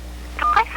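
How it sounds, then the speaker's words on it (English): A single short voicemail keypad tone sounds, a pair of brief steady beeps in quick succession, heard close over a low hum, with a recorded voice prompt nearby. "To listen to your messages, press 1."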